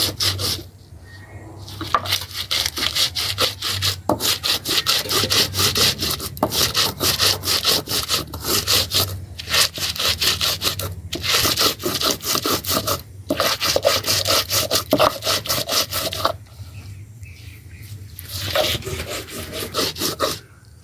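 Spices ground on a grinding stone for crab cakes: a continuous rough scraping of stone rubbing on stone in steady back-and-forth strokes, loud and close, with brief pauses and no talking.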